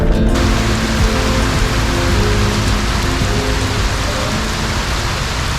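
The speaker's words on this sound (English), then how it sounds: "send some positive vibes for the rain to stop, because right now it doesn't seem like it's going to" Heavy rain pours steadily and loudly during flooding in Davao province, a dense unbroken roar with no voices.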